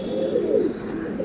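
Pigeons cooing in a loft, a soft low rolling coo close by over faint background noise.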